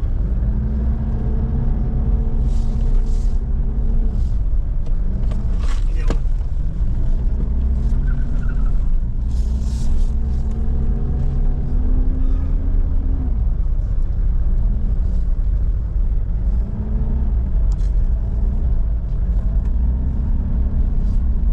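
A steady, loud engine drone with shifting hum and wind rush from a vehicle on a long road trip through Quezon National Forest Park, continuous with no break.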